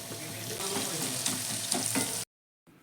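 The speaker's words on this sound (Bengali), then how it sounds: "এই তেলটার মধ্যেই আমি দিয়ে দেবো পেঁয়াজ" Onions sizzle loudly in oil rendered from chicken, a dense, close crackle with light stirring, then cut off abruptly into brief silence before a short burst returns.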